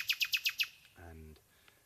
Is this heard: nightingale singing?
yes